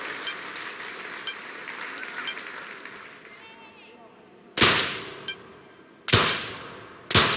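Pistol shots from a 25m rapid fire pistol event in the London 2012 video game: sharp loud reports, a few spaced bangs early then a louder cluster of about four shots near the end, over a low crowd murmur.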